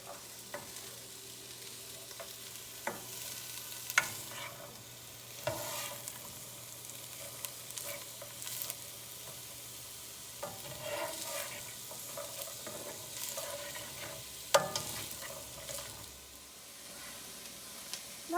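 Onions for chicken gnocchi soup sautéing in a pot, a soft, low sizzle broken by scattered spoon clicks and stirring scrapes at irregular intervals, fairly quiet and close, with no one speaking.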